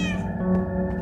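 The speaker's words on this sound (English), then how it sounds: "Meow indeed." One drawn-out cat meow from the block-building game Minecraft, loud and clear with a rich tone, heard alone.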